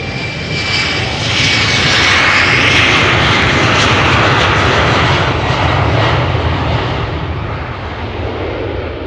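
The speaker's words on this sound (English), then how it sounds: "the KLM has just taken off" KLM Embraer 190 jet airliner taking off at Amsterdam, a loud, steady jet engine roar that swells and holds for the whole stretch and then eases slightly toward the end, with no talk.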